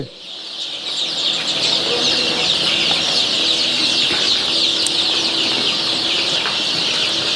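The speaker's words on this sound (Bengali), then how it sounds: "একটু খাবার দিতে দেরি হয়েছে, এর জন্য মুরগি একদম বিগার হয়ে গেছে গা" A crowd of hungry native chicks in a brooder, loud continuous high-pitched peeping and cheeping close by, steady throughout with a few faint rustles and wing flaps.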